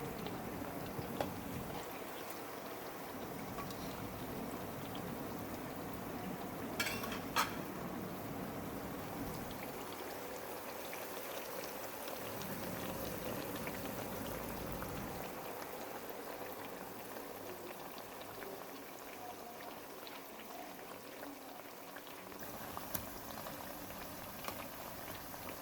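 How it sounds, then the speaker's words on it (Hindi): Mayo pakoras deep-frying in hot oil give a steady, bubbling boil-like sizzle that runs continuously at moderate loudness, with no speech. "हमारे पकौड़े बहुत अच्छी तरह फ्राई हो गए हैं"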